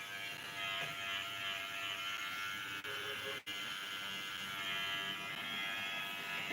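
An electric hair clipper with newly sharpened blades runs continuously with a loud, steady buzzing drone, broken by two brief dips as the motor momentarily falters.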